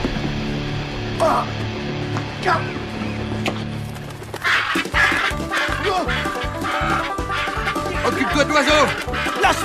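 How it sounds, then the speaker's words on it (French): Turkey squawking and gobbling through a scuffle, harsh repeated bird calls that start sporadically and then grow dense and agitated, with people shouting over the commotion. "Attrape la dinde, Jimbo!"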